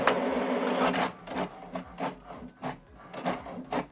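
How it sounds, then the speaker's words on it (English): An HP Deskjet inkjet printer printing an information page gives off a close, rhythmic mechanical rasping, with repeated short carriage passes and paper-feed whirs in a steady pattern. "it's printing printer information page"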